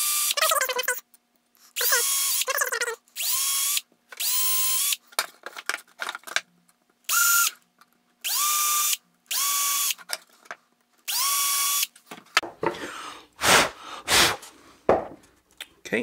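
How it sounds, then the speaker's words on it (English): A power drill whirs in a series of short, steady bursts separated by pauses, drilling holes in wood, ending with some clattering handling noises close by. "So I'm just going to go ahead and drill my holes."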